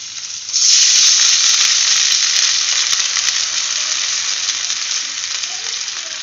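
Matki (moth bean) dal hits a hot pan with a sudden loud sizzle that settles into a steady, bright frying hiss lasting several seconds, close and alone without talk.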